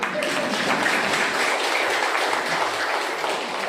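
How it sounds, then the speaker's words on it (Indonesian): Audience clapping at a village head handover ceremony in Aur Duri, Pesisir Selatan: an even, sustained wash of many hands applauding together, steady and fairly loud throughout the short burst, with no talk over it. "Tepuk tangan."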